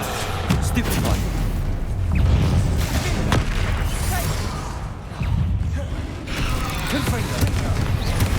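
Spell-casting blasts and booms from combat in the Hogwarts Legacy video game, recurring through dense game effects and music at steady loudness, with a voice calling out spell names in between.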